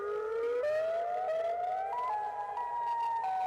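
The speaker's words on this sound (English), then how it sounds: "electric siren is definitely the Federal Signal Modulator" A Federal Signal Modulator electric tornado siren sounds its alternating wail, a loud tone that steps up and down in pitch continuously and carries alone with no talk.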